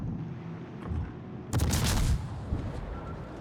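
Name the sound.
depth charges exploding in naval warship video game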